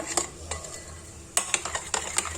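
Chocolate fondant cake batter stirred by spoon in a bowl, with repeated sharp spoon clinks against the bowl and soft mixing sounds between them, no voices.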